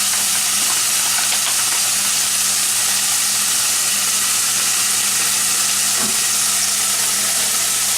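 Ravioli boiling in a pot of water for chicken ravioli soup, a steady hiss and gentle bubbling that runs evenly and close throughout, with no talking.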